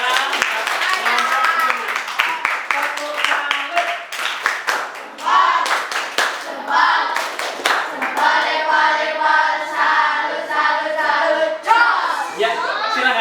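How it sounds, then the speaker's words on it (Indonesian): Clapping in an Islamic elementary school classroom, with bursts of quick hand claps mixed with lively children's voices chattering and chanting over them, close and loud throughout. "berikan tepuk tangan"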